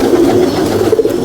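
A Ferozpuri pigeon gives a short, close, loud coo that lasts just over a second on its own.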